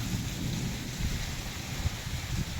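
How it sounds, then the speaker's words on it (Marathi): Heavy rain roars steadily with gusty wind and low rumbling, a dense continuous storm wash without pauses. "वादळी वाऱ्याचा पाऊस म्हणजे नुकसानीचा पाऊस"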